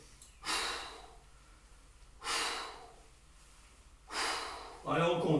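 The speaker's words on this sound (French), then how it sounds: "Soufflez." Three forceful, evenly spaced exhales come during a home tennis conditioning workout, each a loud, breathy burst about two seconds apart, followed by a brief voice at the end.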